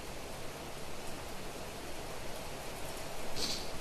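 Steady rainstorm in the video game Planet Crafter, a dense, even hiss of rain filling the whole stretch at moderate level with no pauses.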